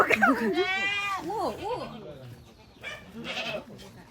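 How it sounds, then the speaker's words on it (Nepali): A goat gives a loud, wavering bleat up close, then a quieter, shorter bleat follows after a brief pause. "बाख्रा पनि रहेछ"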